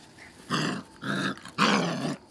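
A five-week-old puppy growls in three short bursts, each rising quickly and then fading, heard up close with brief quiet gaps between them.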